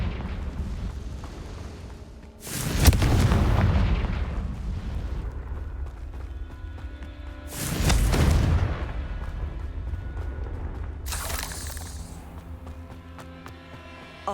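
Confringo fire-blast spells explode in Hogwarts Legacy, three separate loud bursts spaced several seconds apart, each a sharp boom with a roaring tail over a quiet ambient background.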